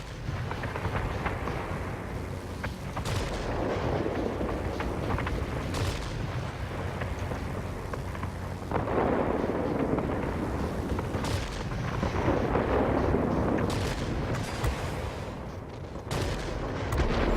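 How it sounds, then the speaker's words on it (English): Rockets from an enemy military base explode in the World of Warplanes video game, a loud, dense, continuous barrage of booming blasts and gunfire-like cracks with several sharper bursts throughout. "The enemy is launching rockets at us from the military base."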